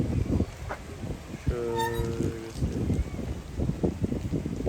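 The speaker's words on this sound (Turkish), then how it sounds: "Rüzgar esiyor arkadaşlar." Wind buffets the microphone in heavy gusts on a main street in Yalova, Turkey, a rumbling roar throughout, with a brief honking tone in the middle.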